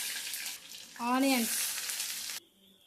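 Onions and spices frying in oil in a kadai, a loud close sizzle that cuts off abruptly near the end, with a brief voice-like tone rising over the frying midway.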